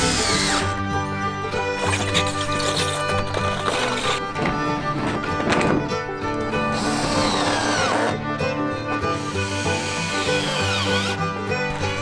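A power drill drives roofing screws into corrugated roof sheets on a log greenhouse, a loud continuous whirring grind that rises and dips as each screw bites, with short breaks between screws.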